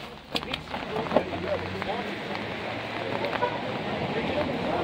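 Rain falls on a fishing boat during the mullet catch at Garopaba, a continuous close patter and hiss broken by a few sharp knocks, with faint voices at moments.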